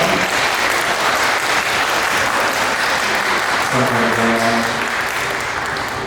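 Wedding guests in a Korean ceremony hall applaud steadily and loudly, a dense wash of clapping lasting the whole stretch, with soft background music tones entering near the end.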